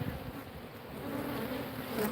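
Honeybees flying around a hive make a dense, steady droning buzz, close and loud, with the hum swelling slightly toward the end.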